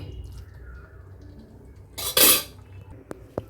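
A pot of cauliflower, peas and poppy-seed curry is briefly stirred and a lid is set down with a short metallic clatter, followed by a couple of faint clinks in an otherwise quiet kitchen.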